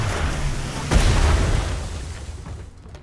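Ship cannons fire during a sailing-era naval battle game, a deep boom landing about a second in over steady background noise, then trailing off into a dull rumble.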